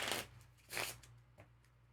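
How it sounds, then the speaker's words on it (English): A deck of playing cards, jokers included, is shuffled by hand in two quick riffling bursts followed by a softer tap, close and quiet over a faint low hum. "take the rest of the cards, including both jokers, shuffle them up"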